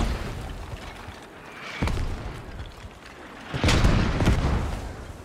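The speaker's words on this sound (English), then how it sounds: "And here come the mortars in." Mortar shells burst in a Squad match on the Chora map, two heavy booming impacts a couple of seconds apart amid a continuous smoky battlefield rumble, with no talk.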